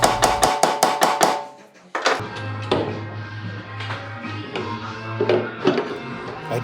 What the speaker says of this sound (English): remove the headset with a dead blow hammer.